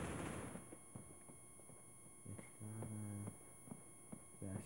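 Gunfire in the mobile shooter game Critical Ops, a few short bursts and single shots popping at moderate level over a steady game background hum, with no talking.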